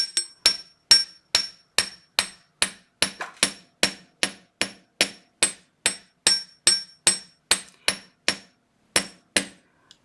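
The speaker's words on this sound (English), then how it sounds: "I'm just tapping to get the frame flat." A hammer taps a metal pendant frame flat in a steady, evenly spaced rhythm, about two sharp, ringing strikes per second, close up with nothing else around.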